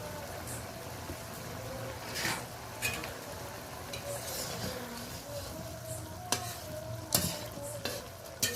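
Tiny parshe fish fry in a pan with coriander leaves for a spicy dish, giving a steady sizzle under repeated scraping stirs. Sharper clacks of the utensil against the pan come at intervals.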